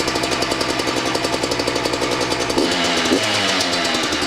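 A two-stroke dirt bike being built as a street-legal machine kicks over and catches, its engine firing in a rapid, steady, loud rhythmic knock. Partway through the note deepens and shifts, with no talking.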